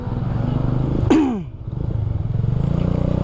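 A motorcycle engine drones steadily while riding through traffic, with a sharp downward-sweeping rev or horn-like burst near the middle, loud and close, and a faint voice underneath.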